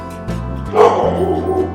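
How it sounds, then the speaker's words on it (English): A dog barks and yips close by from a room, a few sharp woofs rising over a low background hum, with no talking over it. "Sorry, that's my dog."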